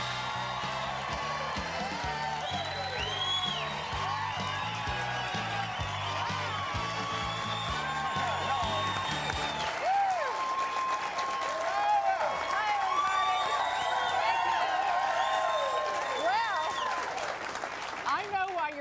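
Studio audience on the Crook & Chase talk show cheering and applauding over band music, the clapping and whoops continuing steadily after the music drops out midway.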